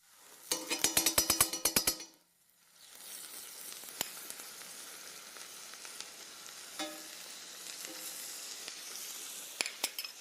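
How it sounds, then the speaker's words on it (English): Rösti fries in butter in a pan with a soft, continuous sizzle, preceded by a quick burst of rhythmic clatter and scattered clicks from utensils against the pan. "And now I let the Rösti fry again in the butter"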